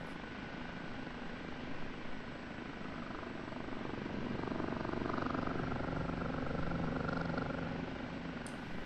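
Helicopter hovering low along the taxiways of Kandahar Airfield in DCS, its rotors and turbine giving a steady, unbroken drone that swells slightly partway through, alone with no talk.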